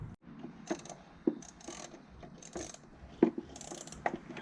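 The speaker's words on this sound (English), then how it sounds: "Managed to get a small ratchet in there." Small ratchet working a bolt on an air conditioning compressor pulley, giving faint, close mechanical clicks and scrapes in a few short irregular bursts against a quiet background.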